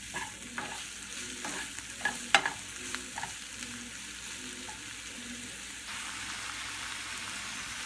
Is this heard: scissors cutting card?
no